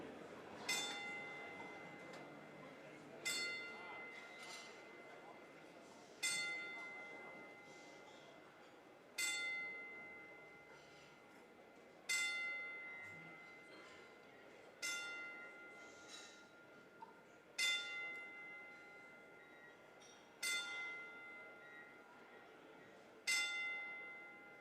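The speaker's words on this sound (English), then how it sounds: "remember such a beautiful lady in Sue, we're going to commence the 10-bell salute" A ten-bell salute at a Melbourne boxing event: single bell strikes ring out about every three seconds, ten in all, each clear metallic tone decaying into a quiet hall with faint room murmur beneath.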